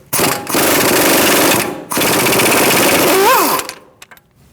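Pneumatic impact gun rattling on a front strut bolt of a 2008-2014 Mercedes-Benz C300, loud and close in two long sustained bursts separated by a brief pause, ending with a few short clicks.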